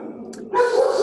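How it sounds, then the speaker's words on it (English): Dogs bark and whine inside a home during a lecture, a faint high yelp and then a loud, sustained bark close by. "Sorry about the dogs."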